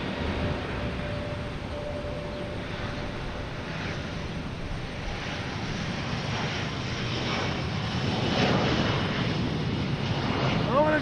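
An ITA Airways airliner takes off at Boston Logan Airport, a broad steady jet roar that swells toward the end, with people talking over it.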